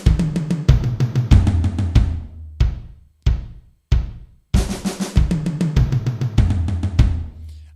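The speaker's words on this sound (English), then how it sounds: "this is your classic drum roll around the kit" A drum kit fill rolls around four toms with the bass drum thumping underneath, in loud, close bursts of rapid strokes that break into separate hits and short rests before a final run.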